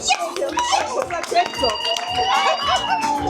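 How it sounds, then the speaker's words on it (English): A seated women's audience rises for a standing ovation at a keynote talk, a busy patter of hand claps mixed with cheers, laughter and chatter from the crowd. "That deserves a standing ovation, ladies. We all need to stand and clap"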